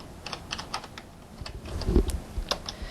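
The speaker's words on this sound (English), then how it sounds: "as soon as I type data into the new column" Data being typed on a computer keyboard into a spreadsheet table, a run of light, close key clicks at an uneven pace with one heavier press near the middle, no voices.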